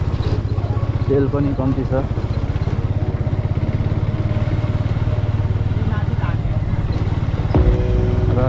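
A Bajaj Avenger 180 motorcycle ridden on a rough road, its engine giving a loud, steady close thrum throughout, with rattles and bumps and a voice talking over it.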